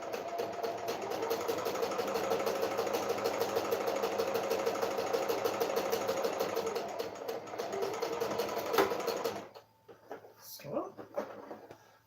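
A sewing machine runs steadily while stitching a tote bag, a continuous mechanical whir with rapid needle rhythm for about nine seconds before stopping, followed by quiet handling noises; speech occurs faintly in the background.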